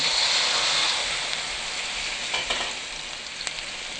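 Steady, loud sizzling of acacia leaves frying in hot oil, a dense crackling hiss with a few sharper pops toward the end; no voices.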